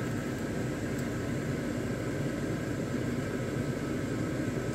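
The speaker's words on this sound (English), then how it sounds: "Sorry about the fan" Steady, unbroken whoosh of an electric fan running in a room, moving smoke away from indoor cooking; a constant broadband hum with no change in level throughout.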